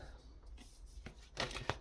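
Tarot cards being shuffled among houseplants: soft, faint riffling and papery flicks, with a few sharper snaps toward the end.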